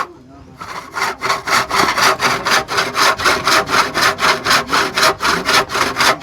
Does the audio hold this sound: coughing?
no